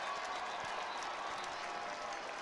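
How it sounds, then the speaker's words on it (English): Toledo fans applauding at a college football game against Bowling Green, a steady crowd-wide wash of clapping heard from a distance in a large stadium. "Toledo fan base gives him a round of applause"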